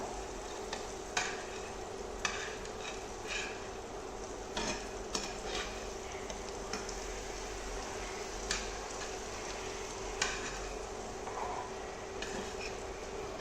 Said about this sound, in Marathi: आता दुसऱ्या बाजूने देखील आहे ना असेच पाच मिनटं फ्राय करून घ्यायचे आहेत